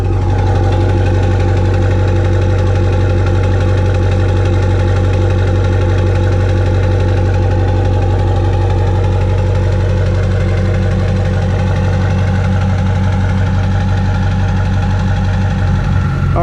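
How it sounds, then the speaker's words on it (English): A 2002 LB7 Duramax diesel truck idling after a cold start at 16 °F, its loud, close engine clattering in a steady rhythmic knock, with a faint turbo whistle spooling above the rumble. "I love the sound this thing makes when that oil warms up and that Fleece Cheetah starts to spool a little bit."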